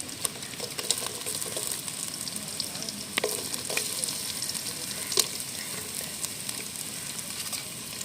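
Onions fry in a pan for a Kerala-style crab roast, a constant dense sizzle and crackle close up, with occasional spatula clicks and scrapes over it.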